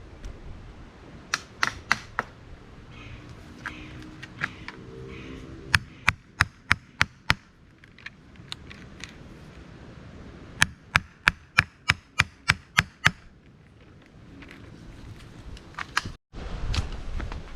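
A wood chisel strikes repeatedly while digging around a wall, giving sharp close knocks in uneven bursts and quick runs, separated by quieter pauses with a low background hum.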